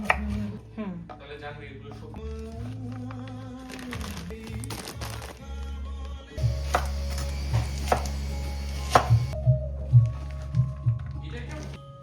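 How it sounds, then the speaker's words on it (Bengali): A series of knife chops on a cutting board as okra is cut into large pieces for frying, irregular at first then several distinct thuds in the second half, with speech heard earlier. "ভাজার জন্য ভেন্ডি কাটা হয়ে"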